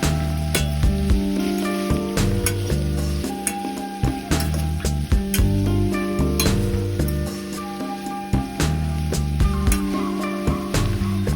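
Carrots and cabbage fry in coconut oil while being stirred, with a steady sizzle punctuated by repeated scraping and clinking strokes of the utensil, over a tonal musical background.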